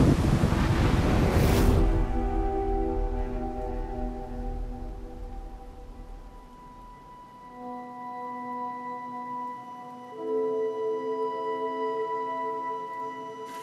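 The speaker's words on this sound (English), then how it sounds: "Hurricane Maria is hitting us pretty hard in Puerto Rico" Hurricane Maria making landfall in Carolina, Puerto Rico brings a roaring gust of wind that buffets the microphone, then fades into a steady low storm rush beneath sustained musical tones.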